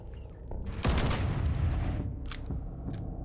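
Gunfire in a Korean witch horror film: a loud, sharp burst of shots erupts and rolls on as a sustained, booming volley, followed by a couple of fainter isolated cracks near the end.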